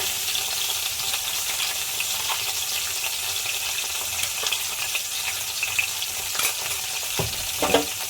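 Onion paste fries in a pan, an even close sizzle with occasional stirring scrapes and a couple of louder knocks near the end.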